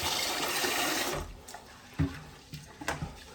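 Water poured into a bowl of raw rice to wash off the starch: a steady splashing pour for about a second, then a few brief sloshes and drips as the grains settle.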